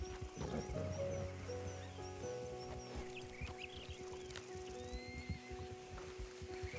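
A horse in the Red Dead Redemption roleplay world whinnies near the start, a bright neigh over a low steady hum and faint rain-like patter, with no one talking.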